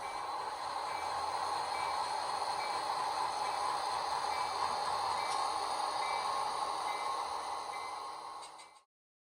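Model trains run on a DCC-EX layout controlled by an EX-CSB1 command station, giving a steady faint motor whir and track hum that holds evenly, then cuts off abruptly at the end.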